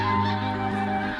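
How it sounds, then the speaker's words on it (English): Snow geese honk in a dense, overlapping chorus of nasal calls at dusk over Squaw Creek, a steady loud flock sound with no pauses. "Snow geese are especially good night flyers, navigating by the moon and stars."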